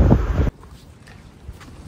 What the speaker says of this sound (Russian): Но ветер этот прохладный дует.